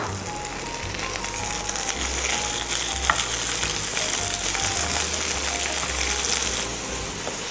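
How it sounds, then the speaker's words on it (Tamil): Curry leaves, onion, green chilli and tomato sizzle and fry in a pan, a steady close crackling hiss with occasional stirring scrapes throughout. "கருவேப்பிலை, வெங்காயம், மிளகாய் எல்லாம் நல்லா வதங்கிடுச்சு."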